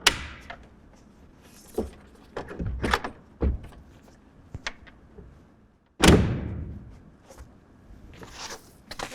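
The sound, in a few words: RealTruck BAKFlip MX4 hard tonneau cover panels folding back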